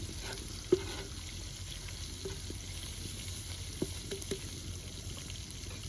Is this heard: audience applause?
no